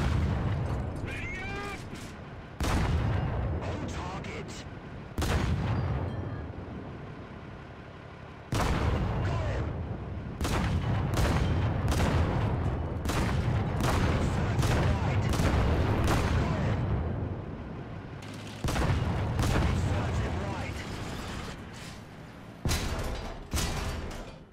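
Tank cannon fire in the War Thunder video game, with repeated loud booming shots and rumbling bursts coming in clusters, then pauses between volleys.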